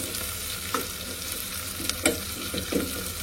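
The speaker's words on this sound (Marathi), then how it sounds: "कांदा थोडा परतून घेऊ. कांदा परतून झाला." Chopped onion sautéing in a pan for a quick prawn biryani. It gives a steady close sizzle and fry, with a few scraping stirs and clinks of the spoon on the pan.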